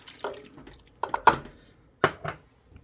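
A cup of water poured into a crockpot, heard as a few short splashing bursts and drips against the pot, close and clear with quiet gaps between them.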